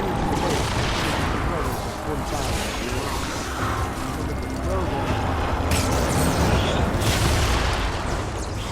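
Grenade explosions and scattered gunfire in Fortnite form a dense, constant barrage of booms and rattling shots, with voices talking over the chaotic battle noise throughout.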